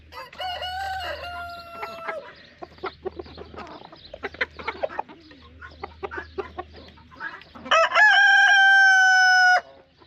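A rooster crows twice, loud and close, with low clucking and soft scratching noises between the calls.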